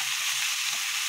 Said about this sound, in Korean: 이렇게 볶아주면요